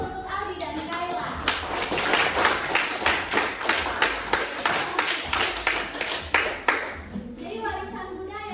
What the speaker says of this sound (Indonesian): Tepuk tangan dulu untuk Aldi dan Kayla